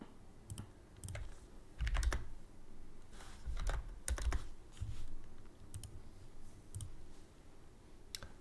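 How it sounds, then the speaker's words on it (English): Computer keyboard typing during a college football game broadcast: irregular bursts of sharp key clicks, close and fairly quiet, with no one talking. "My keyboard probably"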